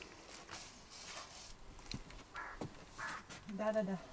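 Crows caw outdoors during fish cleaning by a riverbank, a few harsh calls near the end mixed with knocking and handling noises, with people talking nearby.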